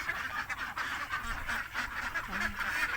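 A flock of domestic ducks at a poultry farm in the afternoon, climbing out of the water to head to their pen, quacking and honking continuously at close range.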